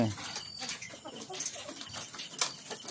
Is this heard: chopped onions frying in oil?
no